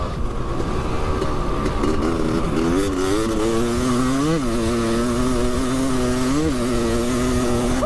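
Engine of an old RT1-M motorcycle being ridden, a steady loud two-stroke drone that rises and falls in pitch as the throttle changes, close and continuous throughout with no talk.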